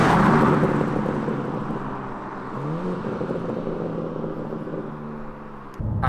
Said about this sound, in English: And you can hear those shifts are really snappy as well.